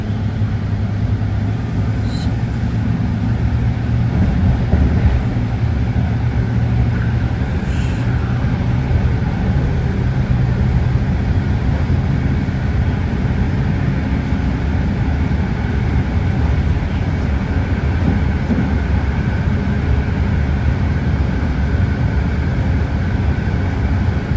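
A steady, loud rumble and rushing roar of a passing Green Line BART subway train rolls on without a break, dense and continuous.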